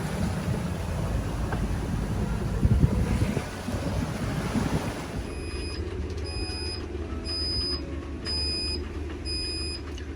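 Strong beach wind buffets the microphone with a heavy, rushing roar. Midway through it eases, and a steady series of high electronic beeps begins, with waves faintly audible behind.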